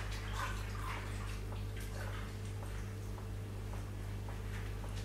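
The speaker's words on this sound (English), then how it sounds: "I'll just wash my hands." A kitchen tap runs steadily while hands are washed under it, a continuous splashing patter with small irregular splashes over a faint low hum, close by with no voices.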